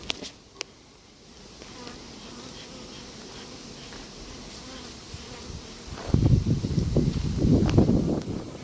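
Honeybees buzzing around an apiary hive, a steady close drone throughout that swells louder near the end, with a few sharp clicks early on and quiet talking in the background.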